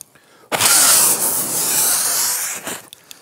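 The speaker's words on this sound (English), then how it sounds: "I'm just basically running it in a piece of scrap hardwood, and a few strokes will remove the burr" Rip saw stroking through a piece of scrap hardwood, a loud, close rasping burst of cutting lasting about two seconds, briefly swelling again before fading, with no speech.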